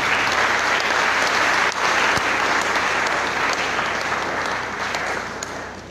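Church congregation at a Haitian Christian assembly clapping together, a dense, sustained round of applause that holds strong before gradually fading toward the end.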